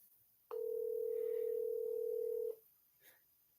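A telephone ringback tone: one steady, fairly loud electronic beep lasting about two seconds, followed by a faint short blip, with no talking.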